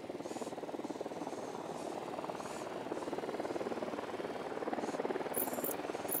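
A helicopter in the video game Ghost Recon Wildlands drones steadily with a rapid rotor chop, a continuous mid-level whir that holds throughout with slight swells in loudness.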